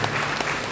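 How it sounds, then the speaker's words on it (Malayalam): Church congregation clapping in unison, a dense burst of applause filling the room, loud and close, with a faint voice underneath. "ദൈവത്തിന് കൈയടിച്ച് മഹത്വം"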